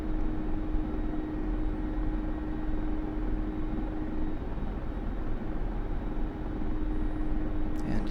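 A Mi-24 Hind attack helicopter comes in to land in the DCS flight simulator, its turbine and rotor roar a loud, steady, unbroken wash of noise with no voices over it.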